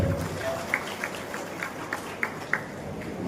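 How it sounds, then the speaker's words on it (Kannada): Scattered, evenly spaced claps from an audience at a Teachers' Day celebration in Belur, sounding like a slow rhythmic handclap over a steady hall murmur. "ಒಂದು ಚಪ್ಪಾಳೆ ಹೊಡಿಬಹುದು ಅನಿಸ್ತದೆ"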